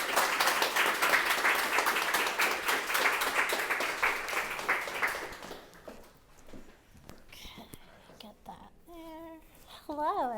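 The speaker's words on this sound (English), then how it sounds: "Would you give a round of applause to Darla Jackson?" Audience applause welcoming a sculptor to speak, a dense burst of clapping that fades after about five seconds, followed by scattered noises and a few brief voices.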